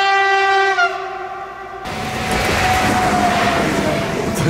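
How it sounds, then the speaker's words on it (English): A train in Slovenia sounds a long, loud horn blast, then rushes past close by with a roaring, rumbling wash of wheels and cars that holds steady to the end. "We're hiding from a train."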